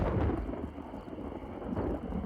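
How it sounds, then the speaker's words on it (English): Close, heavy thunder rumbles for a couple of seconds as a sound effect in an audiobook, a deep rolling roar mixed with the hiss of falling rain and no voice. "Kimura's heart sank when she heard thunder. It sounded dangerously close."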